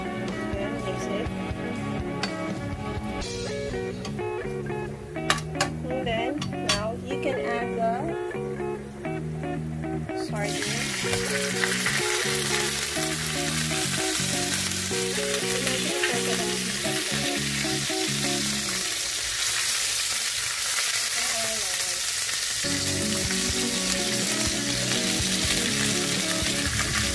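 Sardines carbonara sauce is stirred in a frying pan with a steady sizzle that swells louder partway through, while music plays underneath throughout.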